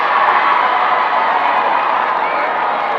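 A crowd cheers at an under-15 school football match at Nene Park, a dense continuous roar of many voices that holds steady and loud for a few seconds.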